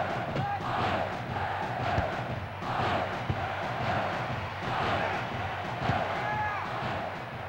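A stadium crowd roars in the N64 football game FIFA Soccer 64, a dense, continuous wash of cheering that swells and eases in waves, loud and unbroken throughout.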